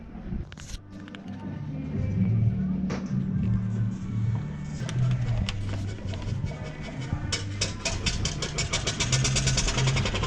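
A car engine turns over and settles into a steady, loud mid-pitched running drone near Porto Velho, with faint background voices underneath.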